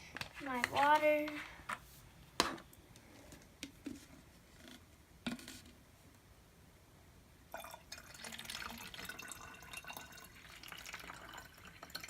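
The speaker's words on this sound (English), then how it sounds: "And now I'm going to add my water." Water being poured into vinegar in a household container to make a homemade rabbit cage cleaner, with splashing and trickling in short bursts followed by a fainter, steadier pour, while people talk quietly nearby.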